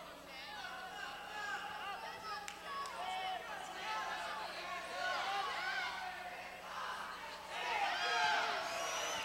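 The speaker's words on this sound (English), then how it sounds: "North Penn crowd yelling for Falterbauer to get up" The North Penn crowd at a 1998 high school wrestling match yells and cheers in a gymnasium, with a swelling mass of overlapping shouts that rises toward the end, while an announcer talks over it.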